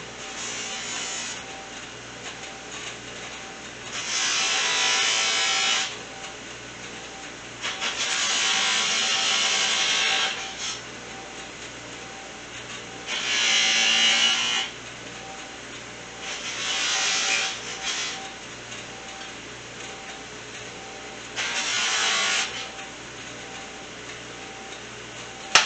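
A polishing buffer spinning with rouge compound on motorcycle parts during a KZ400 build, whirring in repeated bursts of a few seconds each over a low steady hum, close and moderately loud.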